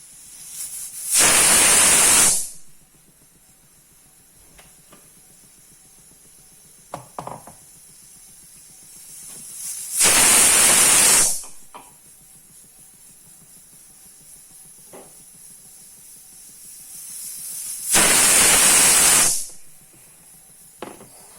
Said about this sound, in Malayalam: ഇനി ഒരു 4 വിസിൽ കേൾക്കുമ്പോൾ നമുക്കിത് നിർത്താം.